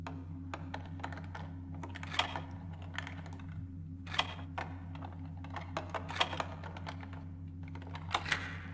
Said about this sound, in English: They're very rattly locked by the sound of it. Far too many tumblers in this lock.